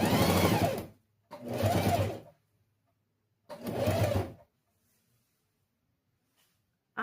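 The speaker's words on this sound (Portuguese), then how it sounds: "Eu coloco a minha agulha para a direita e vou costurar aqui." A sewing machine stitches along the edge of a small fabric pencil case in three short, even runs about a second each, separated by brief pauses, close and clear with no talking.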